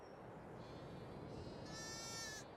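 Sheep in Farming Simulator 22 bleating on a pasture, a faint, thin bleat rising in the latter half over a low background hum.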